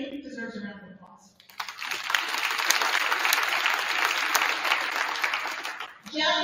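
A round of applause for a student athlete in a school gym at a boys' varsity volleyball event, bursting in after a voice over the speakers and holding steady and dense for several seconds before the voice returns.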